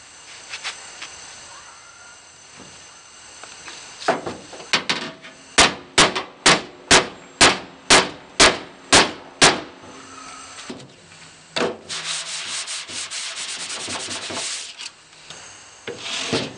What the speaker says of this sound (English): I don't want to hammer on this anymore